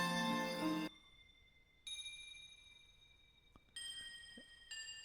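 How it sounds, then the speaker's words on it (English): Faint, bright bell-like tones chime a few times, each ringing out and fading with a soft echo over quiet background. "the bell sound from the first track, which is running through a little echo"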